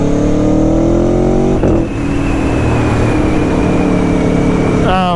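An Aprilia Tuono V4 1100 Factory motorcycle's V4 engine revs loudly and close by, with a steady high-pitched drone that drops briefly before climbing again into a sharp rising rev near the end.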